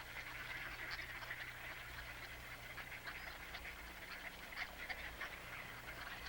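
Ducks and other migrating waterfowl calling on the marshes of Long Point on Lake Erie, a continuous chorus of distant quacks and honks with scattered louder calls over a low background rumble.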